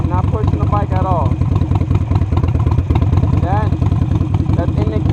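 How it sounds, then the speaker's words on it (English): A motorcycle engine idles steadily and revs slightly as the clutch is eased out into the friction zone, running close and loud throughout while someone talks over it. "I'm going to let off the clutch a little bit, and you're going to watch the bike roll off a little bit"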